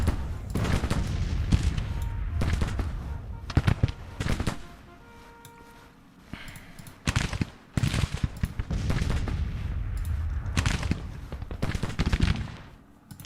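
Rifle volleys and artillery from a Civil War battle in Grand Tactician: The Civil War, rolling crackles of musketry in repeated surges with heavy booms, loud and continuous apart from a brief quieter lull.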